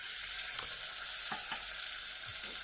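Mustard seeds and ginger paste sizzle in hot oil for an Indian vegetable curry, a soft, steady frying hiss with a few faint pops and ticks.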